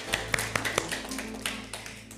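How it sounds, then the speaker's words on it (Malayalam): Children clap their hands, a handful of sharp, distinct claps at first that loosen into scattered, softer ones, over a faint steady hum in the room. "ഒരു കൈയ്യടി കൊടുത്ത മക്കളെ."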